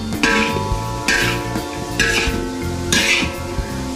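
Meat tossed and flipped in a wok, four rhythmic whooshing scrapes about a second apart over a background hum, close and fairly loud, with no speech.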